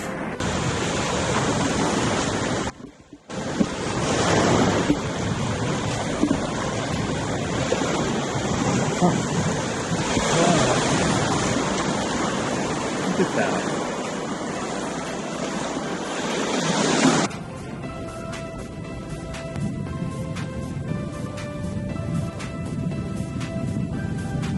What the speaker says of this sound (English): There's an area down there where there's some rocks right on the beach